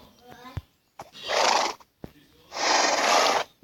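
A horse in the video game Minecraft neighs twice, each whinny long, loud and close. Short clicks and snorts sit between the calls, and no one speaks.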